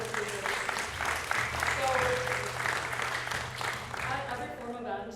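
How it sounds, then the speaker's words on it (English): An audience applauds panel speakers at a free speech forum, with sustained, moderately close clapping and a few cheers, while a voice speaks briefly over it. "One last round of applause for our speakers."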